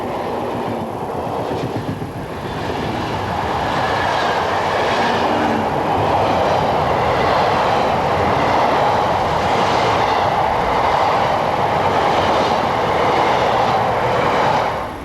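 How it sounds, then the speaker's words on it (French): An extra-long car-carrying train, number 1375 from Liège to Ventimiglia, rumbles past on the Lyon–Marseille line, a loud steady roar of wheels and wagons sustained throughout without talking. "Même trajectoire pour la composition hors norme du train auto 1375"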